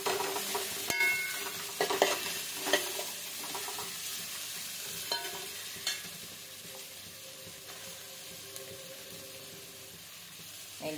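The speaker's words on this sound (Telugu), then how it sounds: "Let's saute." Sliced onions sautéing in a pan for a chicken gojju, a continuous soft sizzle with scraping stirs and occasional clinks from a spatula, close and steady throughout.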